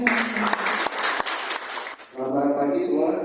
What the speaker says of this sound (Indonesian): boleh kita tepuk tangannya